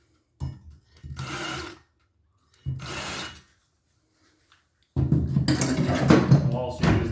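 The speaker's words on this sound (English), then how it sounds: "We'll use this chamfering tool to take off the edge" A hand chamfering tool scrapes the edge of a valve guide in a Subaru SOHC EJ25 cylinder head, heard as three separate bursts of rough rasping, the final one longer and louder, with short silences between them.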